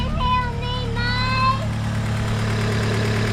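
A Honda EK coupe engine idles at about 1,000 rpm with a steady low hum, close by. A high, falling whine runs over the first second and a half.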